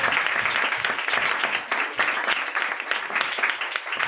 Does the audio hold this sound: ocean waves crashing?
no